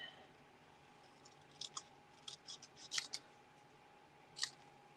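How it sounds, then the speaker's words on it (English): Scissors snipping through card paper during holiday card making, a scattering of small, quiet, close cuts and clicks against a low steady background hum. "And I'm testing my paper snip skills today."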